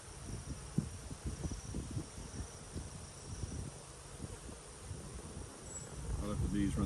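Honey bees buzz around nuc hives outdoors, a dense, steady swarm drone with scattered louder passes close by and no talking.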